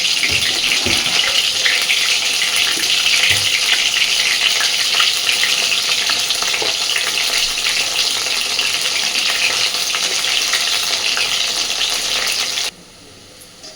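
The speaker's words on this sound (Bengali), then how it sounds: "দেখুন, সুন্দরভাবে সয়াবিনগুলোকে ভেজে নিয়েছি।" Soybean chunks fry in a pan of hot oil like pakoras, giving a loud, steady crackling sizzle that runs almost the whole time and then drops away abruptly near the end.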